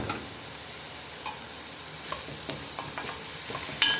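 Marinated beef and onions sauté for a Moroccan beef tagine, a soft, steady sizzle broken by scattered clicks and scrapes of stirring.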